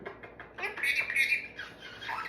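A pet bird squawks and chatters up close in short, harsh bursts with raspy, shrill calls, loud and alone over a quiet room.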